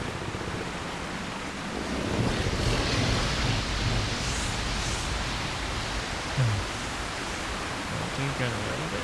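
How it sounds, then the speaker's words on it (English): Loud, steady rushing of flowing water in the Lord of the Rings Online game world, a broad constant wash running the whole time with faint game sounds over it. "And the water is always supremely loud."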